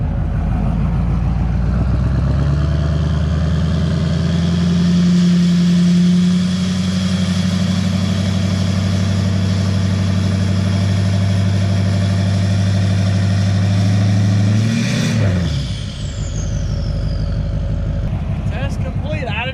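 A Duramax diesel pickup engine is held at full throttle, a loud, close, sustained roar that stays steady for about fifteen seconds before the revs drop away abruptly.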